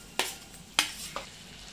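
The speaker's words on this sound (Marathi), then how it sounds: "आता काय हे भरीत टाकायचं, मॅश केलेलं वांग." A spoon scrapes through mashed roasted eggplant and onions in a pan for baingan bharta, three distinct scraping strokes over soft background noise, close and fairly quiet.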